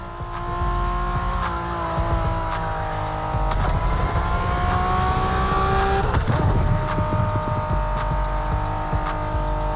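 A 1990s Honda NSX races in The Crew Motorfest with a loud engine whose pitch climbs and drops through gear changes, alongside bursts of tire squeal and skidding, with no talk over it.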